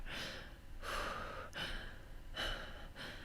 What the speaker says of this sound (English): You hear the exasperated breathing of someone close to you as your eyes adjust to the surrounding.